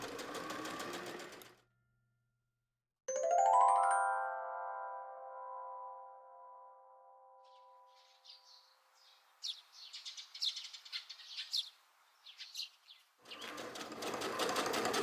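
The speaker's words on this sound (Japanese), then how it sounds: "とりあえず後ろ身ごろの背中心を合わせて仮縫いしよう。" A sewing machine stitches a difficult fabric for a garment. Its quick, intermittent rattling bursts follow a ringing chime, with silence and louder background sound at either end.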